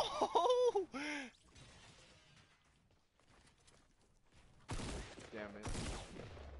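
Bursts of gunfire in a multiplayer shooter video game, a rapid loud volley at the start, then quiet, then more shots and action sounds near the end.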